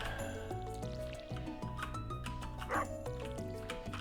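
A dog in the Stardew Valley farming game gives short barks and yips over the game's continuous melodic background music; the barks sit under the tune and are not very prominent.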